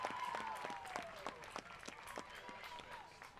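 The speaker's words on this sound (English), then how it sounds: "Hear the crowd cheering for Higginbotham as he comes off." Crowd at a high school district championship football game applauds from the stands, scattered distinct claps mixed with broad crowd noise, fairly distant and fading somewhat over time.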